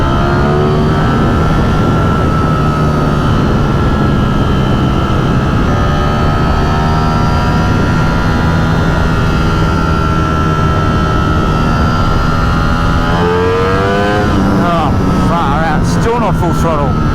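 A Ducati Streetfighter V4S motorcycle with a Brentuned engine screams at full throttle, a loud sustained high-pitched wail that climbs steadily through the gears and stays close and dominant throughout.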